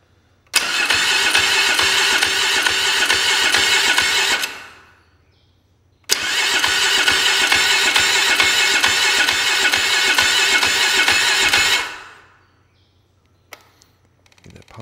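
A Polaris ATV engine cranks and fires up twice, each time running loud and steady for several seconds before cutting off, with a short quiet gap between the runs.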